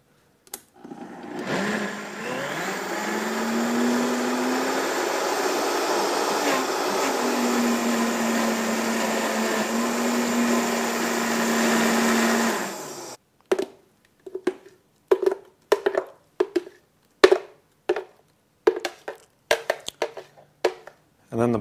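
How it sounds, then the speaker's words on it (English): Blender whirring through raw food, a long steady motor drone lasting about twelve seconds, followed by a run of short, sharp pulse bursts spaced roughly a second apart. "let's do some more blender action."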